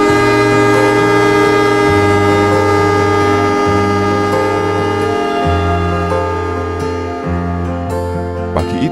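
A locomotive horn sounds as a train departs Pasar Senen station, a loud sustained multi-tone blast held throughout with shifting pitch steps, close and dominant over rumbling rail noise.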